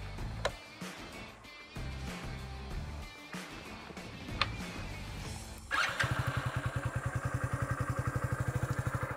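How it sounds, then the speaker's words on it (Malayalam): A Hero Splendor Plus BS6 motorcycle is fiddled with briefly before its engine catches and settles into a steady idle, the exhaust pulsing in a fast, even, bassy thump up close. "അപ്പോൾ ഇതാണ് നമ്മുടെ വണ്ടിയുടെ ഐഡ്ലിംഗ് സൗണ്ട് എന്ന് പറയുന്നത്."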